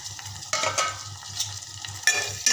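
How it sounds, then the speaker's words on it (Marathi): Spices and finely chopped tomato stirred in a hot pan, close spoon scrapes and clinks in uneven strokes over a soft sizzle and a low rhythmic hum, with no talking. "छान असं मस्त मिक्स करून घेते टोमॅटो पण थोडा मी मऊ होऊ देणार आहे"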